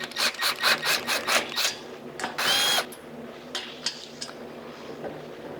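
Parts of a UWC4 assembly being tightened down by hand, giving a quick series of ratcheting, rubbing clicks and scrapes followed by a brief grinding burst and a few scattered taps, close up with no talking.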